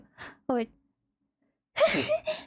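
A single short sneeze-like burst from a person recovering from wisdom tooth removal, close and fairly loud, set between brief spoken words.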